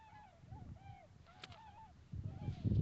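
Several geese honk outdoors at night, a series of repeated calls at moderate distance, with louder low rumbling noise building toward the end.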